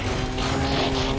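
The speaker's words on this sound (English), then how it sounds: "Optimus, scouts reported the Decepticon dropship is coming in hot." A Decepticon dropship flies in during Transformers: Fall of Cybertron, a steady loud engine drone with a humming tonal whine that holds level for about a second.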